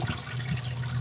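Water runs over pork bones being washed, a short burst of steady splashing and trickling with no voices.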